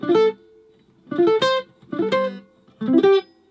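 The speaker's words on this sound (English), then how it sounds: "today we'll look at a lead guitar technique, sweep picking" Quick rippling sweep-picked guitar arpeggios, four fast bursts of notes rolling across the strings, each separated by a short pause, played cleanly and up close.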